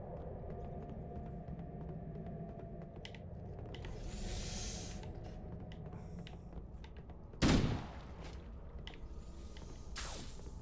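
Gunfire in Halo: Combat Evolved, a steady patter of rapid clicky shots running throughout, with one loud, sharp burst near the end standing out above the rest.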